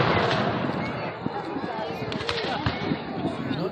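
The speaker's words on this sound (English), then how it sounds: "I'm not sure who did the shooting." Musket and cannon fire at a Civil War battle reenactment at Narcoossee Mill, scattered sharp reports and booms over a dense, noisy outdoor crowd din, with voices mixed throughout.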